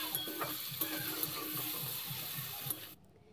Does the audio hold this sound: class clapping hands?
no